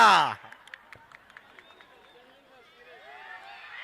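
Scattered, sparse hand claps ring out from a crowd at a women's wrestling bout at a Satana kusti dangal, following a loud shout at the start, with faint crowd murmur underneath.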